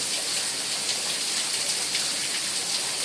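Heavy rain pours down in Mithapur as a dense, unbroken hiss, loud and even from start to finish with no speech.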